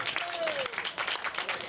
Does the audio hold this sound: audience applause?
yes